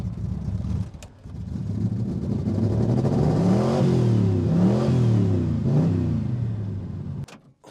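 1975 Chevrolet Corvette Stingray engine revved with added throttle, its pitch climbing and falling in several repeated swells over a steady running drone, close and fairly loud, with no talking.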